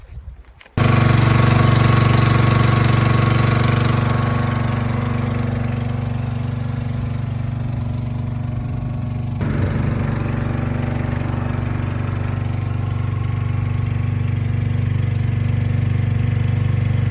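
Small petrol engine driving a water pump at a campsite, starting up abruptly and then running at a steady, loud idle close by, with an even mechanical drone throughout.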